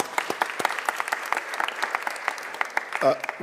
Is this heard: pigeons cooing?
no